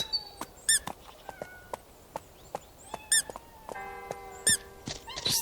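Squeaky toy sounds come from a horse video game: several sharp, high rubbery squeaks repeat in short bursts over soft game music and chimes, fairly close and clear, with no talk.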